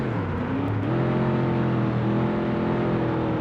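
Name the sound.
Chevrolet C5R race car engine in racing video game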